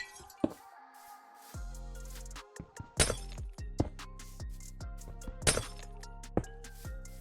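Glass blocks breaking in Minecraft, several sharp shattering crashes spaced a second or two apart with clinking and thunking block sounds between them, set against low droning tones.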